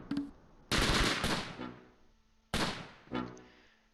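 Submachine gun and rifle fire in the World War II strategy game Close Combat Gateway to Caen crackles in two sharp bursts, each fading with echoing shots, loud against quiet gaps.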